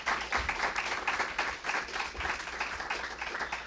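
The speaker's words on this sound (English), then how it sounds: "Let's give another round of applause to our 3 honorees today." A room full of people applauds three honorees at a Women's History Month celebration in Springfield, a dense, steady wash of clapping that carries on without a pause for nearly four seconds, with no talk over it.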